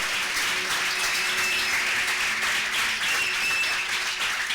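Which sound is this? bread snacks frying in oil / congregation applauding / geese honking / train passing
congregation applauding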